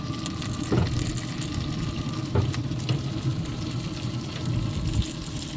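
Steady sizzling of food frying in beef tallow in a pan, a constant crackling hiss with a few sharper pops, close and moderately loud, no talking.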